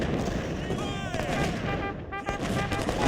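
Artillery fire from Civil War–era cannons in the Ultimate General Civil War strategy game, a dense continuous rumble of booms and crackling volleys running under a voice throughout.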